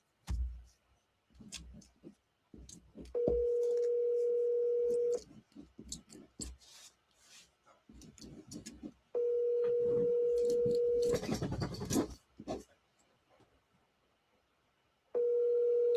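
An outgoing call rings back with long steady tones separated by pauses, with clicks and faint handling noise in between.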